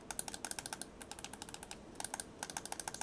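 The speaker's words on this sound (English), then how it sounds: "The triggers and back buttons are all very clicky and satisfying." Triggers and back buttons on a NYXI Wizard GameCube-style controller being pressed repeatedly: crisp, close, rapid clicks in quick bursts with short pauses, sharp and tactile, no talking.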